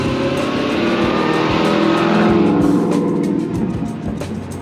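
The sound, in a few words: Corvettes driving out of the corral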